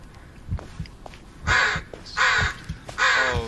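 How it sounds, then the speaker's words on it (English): Crows caw in the game Blair Witch, three loud harsh calls spaced about a second apart, close by, with softer clicks and rustles between them. "Oh, there's crows."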